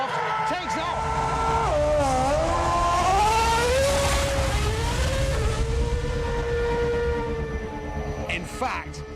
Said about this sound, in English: In just a handful of seconds, an F1 car accelerates to the kinds of speeds at which a jet aircraft takes off.